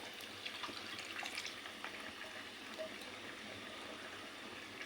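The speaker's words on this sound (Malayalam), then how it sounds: "ഇനി അതിലേക്ക് അരമുറി തേങ്ങയുടെ 1/4 പാൽ" Coconut milk from a quarter of half a coconut pours into a pot of special fish curry, a steady liquid trickle and splash running continuously at moderate level without speech.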